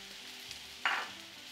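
Mushrooms hit very hot vegetable oil in a pan with a short, bright sizzle burst that fades quickly against a quiet background.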